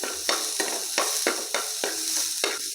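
Chopped tomato stirred into masala frying lightly in a pan, with steady sizzling broken by about eight regular scraping stirs, close and moderately loud, no voices.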